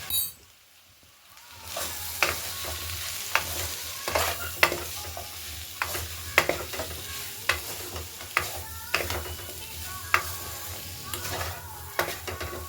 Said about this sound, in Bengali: ধনে গুঁড়ো হাফ চামচ মতন জিরে গুঁড়ো আর এক চামচ হলুদ দিয়ে ভালো করে কষিয়ে নেবো